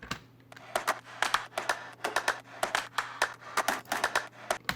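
Clap sample in an EDM drop, sharp bright claps repeating in a quick regular rhythm over a low steady hum, each hit distinct and close, with no voices.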